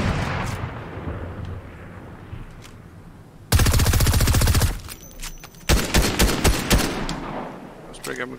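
Video game gunfire erupts in a loud sustained automatic burst, pauses, then returns as a rapid run of close, punchy shots, heavy and booming against a quieter ambient start.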